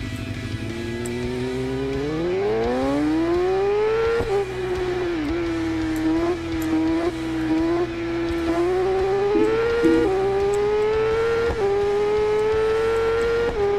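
In a racing video game, a ZX10R sport motorcycle engine screams loudly as it accelerates toward top speed. The pitch climbs sharply, then holds high with brief dips and recoveries like gear shifts, continuous and with no voices.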